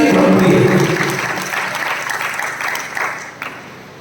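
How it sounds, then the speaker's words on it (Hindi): Audience at a Jain monk's religious discourse in Pusad applauding with both hands, a loud dense burst of clapping that gradually thins and fades over a few seconds. "दोनों हाथों से तालियां बजाई है"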